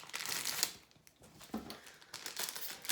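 Plastic mailer packaging from a Shein clothing haul crinkles and rustles close up as hands work at opening it, irregular scrunching and tearing bursts with brief pauses, no talking.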